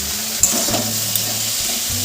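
Potatoes stir-fry in a pan with salt and turmeric, giving a steady close sizzle with soft scraping stirs and occasional light clinks.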